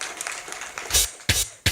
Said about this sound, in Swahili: Naomba tujipigie makofi wote.